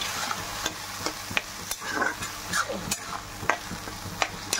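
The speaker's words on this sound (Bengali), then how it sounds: "এবার একটু ভালো করে কষিয়ে নেব।" Green peas sautéing in a kadai, with a steady sizzle and repeated scrapes and knocks of a stirring spoon against the pan, close and without talk.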